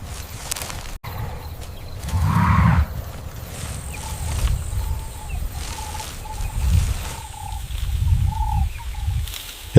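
A lion roaring far off across the open plains of Ruaha in Africa, low rumbling bursts over a steady wild ambience with birds calling faintly.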